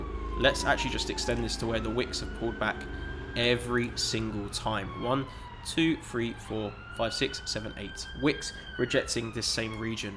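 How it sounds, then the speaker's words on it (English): Police sirens on a London street wail in long rising and falling sweeps from somewhere in the background, fairly faint and partly masked by someone talking steadily close up throughout. "And I do apologize for the sirens in the back."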